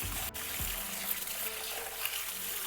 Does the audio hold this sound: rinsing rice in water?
yes